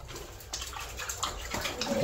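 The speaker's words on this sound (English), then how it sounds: "Lots of water coming out there." Water gushes and splashes inside a dark, flooded mine, a steady wet pouring with irregular splashy surges, moderately close and heard without talking.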